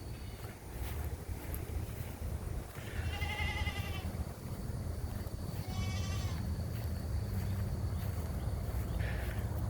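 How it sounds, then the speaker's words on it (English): Two or three wavering bleats from goats a short way off, heard over steady wind buffeting the microphone. "Looks like there's a couple of goats over there."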